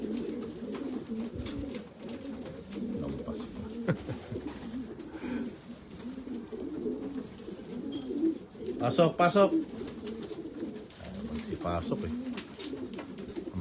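Racing pigeons coo in low bursts, loudest near the middle, beneath a man calling out and talking throughout, as birds return from a 240 km race.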